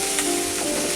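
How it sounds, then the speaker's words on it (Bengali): Ginger paste, onion and garlic fry in hot oil, giving a steady, dense sizzle that stays close and fairly loud for about a second with no voices. "পেঁয়াজ রসুন দিয়ে একটু তেলের উপরে ভেজে"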